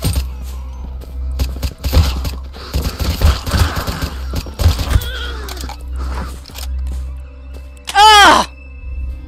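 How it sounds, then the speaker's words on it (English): Rapid gunfire aimed at zombies in the video game Deathly Stillness, dense bursts of shots with a loud groaning or shrieking cry near the end. "Now I'm just going firing crazy because they're getting mad at me."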